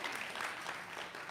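A live audience applauds a singer named Krista at a church service, a dense, steady wash of many hands clapping that holds at full strength for the whole short stretch, with no voices on top.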